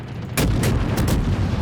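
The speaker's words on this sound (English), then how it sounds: "But the anti-aircraft fire looks badass. Yeah, it's all machine guns though." Anti-aircraft machine gun fire in a video game, several heavy booming bursts in quick succession after a brief quiet start, loud and close over a rumbling background.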